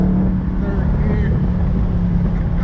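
Dodge Challenger with a new exhaust pulling hard in third gear, a steady loud low engine drone with a strong hum heard from inside the car, with wind noise and brief talk over it.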